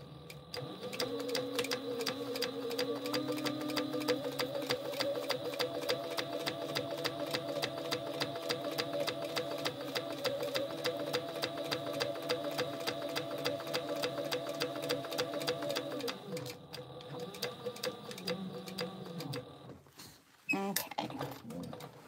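Sewing machine top stitching the back of a fabric pouch, a steady close mechanical whir with rapid needle ticking for about sixteen seconds, then slowing to a stop, followed by a brief clatter.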